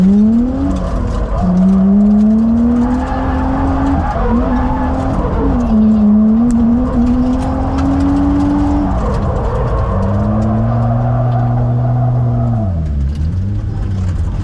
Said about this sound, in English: We'll do a drift.